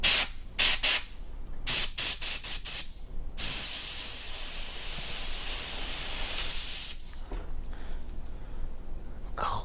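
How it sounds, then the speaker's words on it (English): An air compressor's blow nozzle cleans a part from a Stihl FS94 trimmer recoil assembly, with several short hissing bursts followed by a long steady blast of air that stops abruptly. "Once that's not red anymore, I like to take my air compressor"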